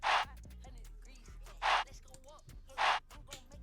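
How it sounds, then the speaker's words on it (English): A breathy chant sample repeats three times in a dark plugg beat made in FL Studio. Each burst is short and airy and sits over a low bass and a light drum pattern. "Then I added a chant, it will sound like this."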